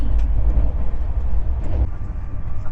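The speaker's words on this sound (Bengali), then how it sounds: "ট্রেন জাস্ট এই পানাগড় ক্রস করলো" The Howrah Rajdhani Express, travelling just past Panagarh, rumbles steadily from inside the coach with a low, continuous rolling roar and faint rattles and knocks throughout.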